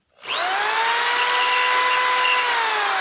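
A power drill bores into wood while making dreidels. It spins up sharply, then holds a loud, steady whine close by with no talking.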